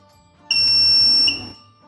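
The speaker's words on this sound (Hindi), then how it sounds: "इसके साथ एक ऑडियो बीप साउंड भी सुनाई देगा।" Eco Volt UPS giving its audio beep on first switch-on: a single loud, steady high-pitched electronic tone lasting about a second, close and alone, ending abruptly.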